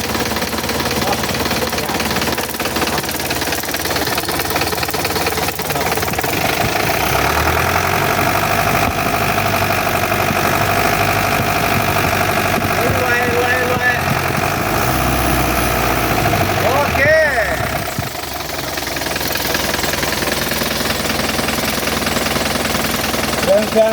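An Isuzu NPR115 engine idles steadily with a low, throbbing rumble and mechanical vibration, its pitch rising briefly midway before settling back to a chugging drone.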